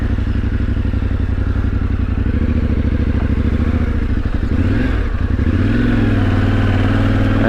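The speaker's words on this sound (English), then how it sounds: "Get some sand under the Tenere's tyres." A Yamaha Ténéré 700 motorcycle rumbles loud and continuous across a sandy beach, its engine note dipping and rising with throttle changes, heard close with wind and rattling underneath.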